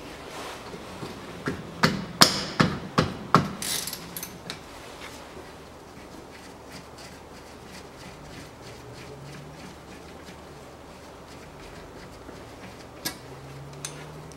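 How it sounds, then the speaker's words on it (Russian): Rear brake caliper cylinder bolts being loosened with a 14 mm socket on a 2007 Toyota RAV4 2.0, heard as a quick cluster of sharp metallic clicks and knocks followed by faint ratcheting ticks and quiet workshop background. "Откручиваем два болта крепления цилиндра к скобе суппорта."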